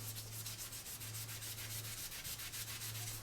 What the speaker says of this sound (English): you just start scrubbing this dirty, and your magic eraser is going to fall apart